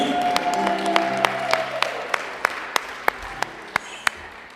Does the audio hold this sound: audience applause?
yes